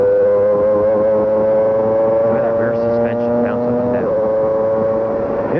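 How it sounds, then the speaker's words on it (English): Peugeot V10 Formula One engine in a 1994 McLaren at the Portuguese Grand Prix, heard onboard as a loud, steady high-pitched whine with a brief pitch shift, under commentator talk. "Interesting engine note from that Peugeot engine as well."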